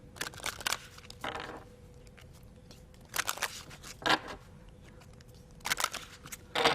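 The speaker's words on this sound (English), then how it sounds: "and I'm going to shuffle each section." Sections of a deck of playing cards being shuffled by hand, several brisk riffling bursts with short gaps between them, close and moderately loud, with no voices.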